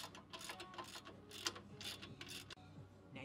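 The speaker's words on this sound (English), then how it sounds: "I just tighten up these bolts." A hand ratchet tightening bumper bracket bolts on a Jeep Wrangler JK, quick clicking ratchet strokes in short rhythmic bursts, close but fairly quiet, ending with a sharp knock.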